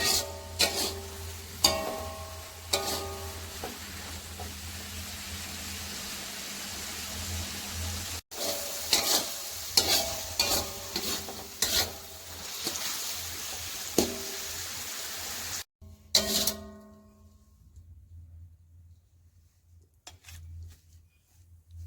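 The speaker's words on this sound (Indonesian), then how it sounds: "Ini numisnya sebentar saja sudah matang" Food is stir-fried in a pan with a steady, close sizzle for most of the clip. Scattered clinks and scrapes of a utensil against the pan come through before the sizzling cuts off and leaves near silence.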